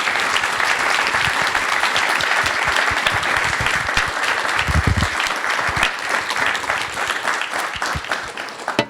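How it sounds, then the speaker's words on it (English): A crowd at an SF Climate Week 2024 panel on climate tech gives the panelists a sustained round of applause, dense and even throughout, with a few louder claps and a brief low thump partway through. "Can we give a round of applause to our panelists"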